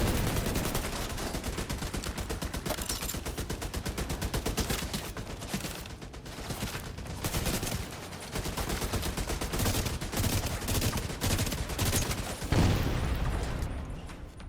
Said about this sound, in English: I do have an automatic assault rifle there to help me out.